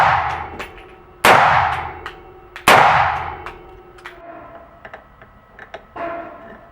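.223 rifle fired outdoors: two loud, sharp cracks with long ringing decays, followed by a few much quieter, shorter suppressed pops.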